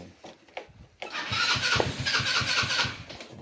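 A car engine cranks with a few uneven stutters, then catches and runs at a steady idle, loud and close, with no talk over it.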